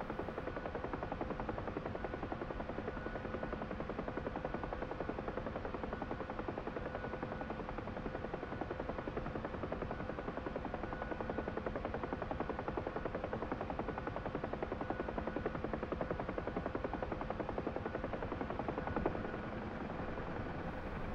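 Steady, dense rotor and turbine drone of a Bell UH-1 helicopter landing after a short low hover, heard in a flight simulator game, even and continuous throughout with no talk.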